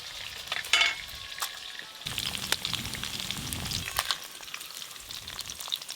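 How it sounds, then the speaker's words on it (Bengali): Singhi fish frying in a pan in a village kitchen, a crackling sizzle with spatula stirs and scrapes, louder bursts in the middle and sharp pops throughout, with no speech. "এরকম করেই মাছগুলো ভাজতে হয়"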